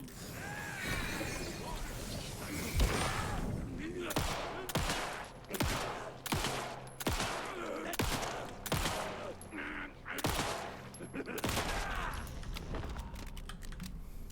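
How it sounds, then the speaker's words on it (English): Pistol fire in the video game Alan Wake 2, a steady run of about a dozen sharp, loud shots spaced roughly a second apart over a continuous background bed of game ambience. "God, this pistol sucks."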